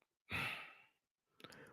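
A man breathes hard, one long heavy exhale followed after a short pause by a rougher, choppier breath, close and fairly quiet.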